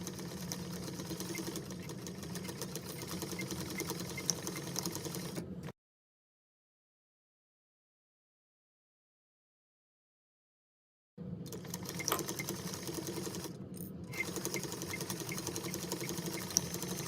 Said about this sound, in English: now you're done sewing the exterior of your bag